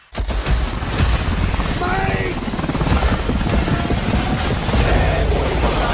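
Loud, continuous helicopter rotor thumping and engine roar fills the whole stretch, with a voice shouting briefly over the din.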